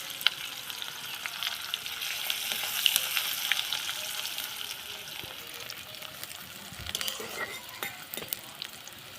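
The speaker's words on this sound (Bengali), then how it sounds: "পেঁয়াজটা দেখুন লাল লাল ভাজা গেছে।" Onions fry in fish oil with cumin and bay leaf, giving a steady crackling sizzle with frequent sharp pops and stirring scrapes, close and moderately loud, with no talk.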